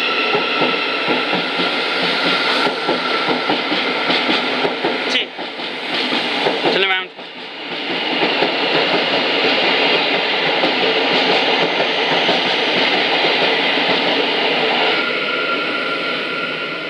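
A Thameslink Class 700 train departs, its loud sustained roar and rumble filling the scene with a brief rising whine midway before the roar continues steadily.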